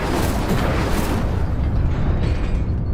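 The Incendio fire spell being cast in Hogwarts Legacy bursts into a loud, crackling, explosive whoosh of flame that roars steadily, then thins and fades toward the end, with no one talking.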